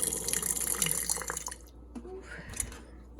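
A glass jar swished around in very hot water to sterilise it, giving brief sloshing and dripping sounds for a second or two before quieter trickles and a light clink.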